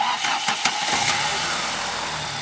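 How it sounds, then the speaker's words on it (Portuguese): A 1998 Chevrolet Vectra GLS, converted to run on natural gas, starts on petrol: a few quick cranking bursts catch into a steady, close engine idle. No one speaks. "Aí, tá na gasolina, ele liga na gasolina."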